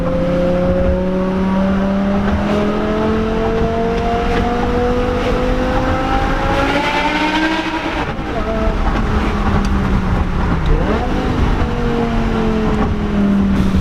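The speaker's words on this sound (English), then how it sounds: "This is by far definitely one of the best sounding cars that I've ever heard." A loud BMW M6 V10 engine with a six-speed manual drones steadily with rising and falling revs, its pitch climbing then dropping, running continuously throughout.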